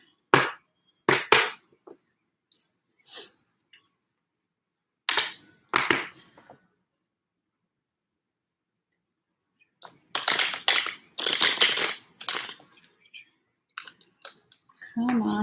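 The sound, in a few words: shuffling tarot cards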